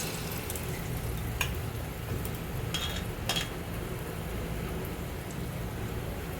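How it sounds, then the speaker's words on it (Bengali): Homemade palm fruit pitha fries in oil for a Sankranti meal, making a soft, continuous crackling sizzle with a few sharper spatters, heard alone at moderate volume. "এইরকম করে সব পিঠাগুলো আমার ভাজতে হবে"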